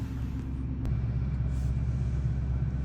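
Inside a New Edge Mustang on a freezing day, the heater blows hard under a steady low engine rumble. The cabin noise stays loud and continuous, with a brief click near the start.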